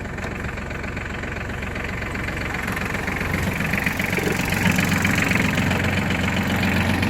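A used Japanese ISEKI Sial 223 mini tractor fitted with a rotary tiller idles close by, its diesel engine chugging steadily and growing slightly louder, with no talk over it.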